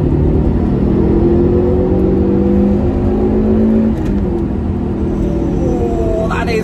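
A Toyota MR2 Mk1 engine revs hard under acceleration, its rising harmonic whine loud and close from inside the car before it eases off and settles back to a steady drone.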